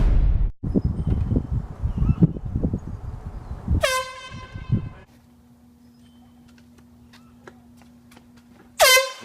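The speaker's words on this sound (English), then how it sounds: "I'm gonna blow the air horn at him like right up" An air horn is blown as a prank, with two loud harsh blasts, one in the middle and one at the end, after rustling and movement noises and a quiet stretch with a low hum.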